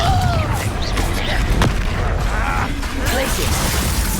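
Confringo fire-blast spell in Hogwarts Legacy during combat, with crackling bursts and booming impacts amid busy battle noise, loud and close, with a voice speaking over it.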